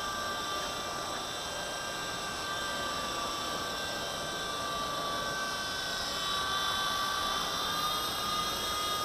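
Small v913 RC helicopter flying at night, its electric motor and rotor making a continuous high-pitched whine with steady tonal lines over a broad hiss, close and constant.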